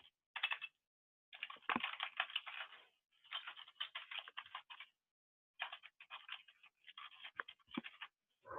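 Typing on a computer keyboard, with bursts of quick, close clicking keystrokes separated by short pauses.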